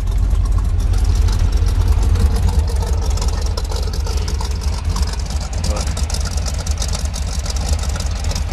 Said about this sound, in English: Here at idle, do a little throttle response as requested.